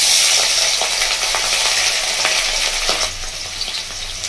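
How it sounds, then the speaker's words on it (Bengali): Chopped onions hit hot oil and fry with a steady, loud sizzle, broken by faint stirring clicks and a slight dip near the end. "তো তেলের মধ্যে দিয়ে দেবো আমি পেঁয়াজ কুচো"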